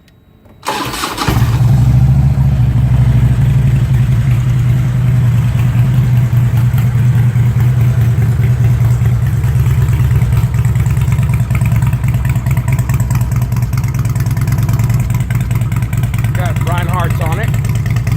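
A 2005 Harley-Davidson Ultra Classic Electra Glide (FLHTCUI) touring motorcycle starts up and settles into a loud, steady low rumble of idling that runs close and continuous, with voices faintly underneath.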